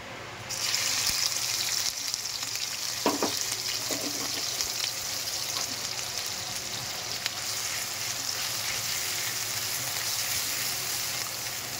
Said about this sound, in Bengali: তেলটা গরম হয়ে গেছে, আমরা এবার পেঁয়াজ বাটাটা দিয়ে দেবো।